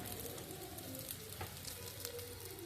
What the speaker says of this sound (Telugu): ఇలా మెల్లిగా తిప్పుకుంటూ కలుపుకుంటే సరిపోతుంది